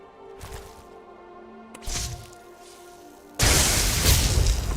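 A spell cast in Skyrim bursts out with a booming whoosh. A short crackle comes first, then a sustained loud roar of the spell that carries on to the end.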